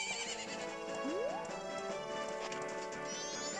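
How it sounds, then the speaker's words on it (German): A horse in the video game The Legend of Zelda: Majora's Mask 3D gives a short rising neigh amid steady hoofbeats, playing quietly under game music with no talking. "So, komm schon, mein treues Pferdchen"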